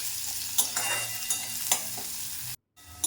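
Chillies and onions frying in a pan, a steady close sizzle with occasional stirring scrapes, briefly cutting out near the end before resuming.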